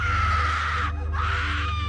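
A woman's ear-piercing scream as a sound effect, loud and sustained, briefly breaking off once before resuming, heard alone over a low hum.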